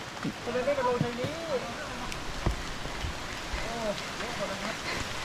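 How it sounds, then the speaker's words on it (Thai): Rushing water from the nearby Salatdai waterfall in Nakhon Nayok, Thailand, a steady broad roar beneath someone speaking. "เสียงน้ำตกอยู่ใกล้ๆนะ"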